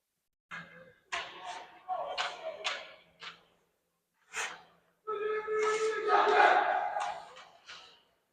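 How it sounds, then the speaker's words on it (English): Boys' hockey team from South Kent School shouting a short 1-2-3 team cheer together, a burst of massed voices in a rink, preceded by a few separate shouts and handclaps. "South Kent gets their little 1-2-3 South Kent cheer going here"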